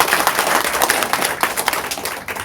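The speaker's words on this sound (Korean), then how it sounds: "제 말에 대해서 공감하는 박수를 한번 쳐주시죠." An audience at a culture talk bursts into applause, a dense wash of many hands clapping steadily and fairly loudly for a couple of seconds, fairly close and with no voices standing out.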